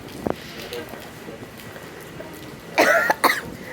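An elderly man gives a short cough first, then after a pause a harsh burst of two or three loud coughs close by.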